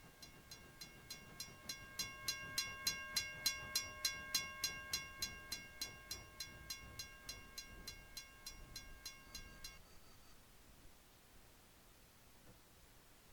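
A Gmod Western-style Misty River Railway train pulls into a station to a rapid train of evenly spaced metallic dings or bell strikes, loud and repeating for about ten seconds before fading into a low, quiet rumble.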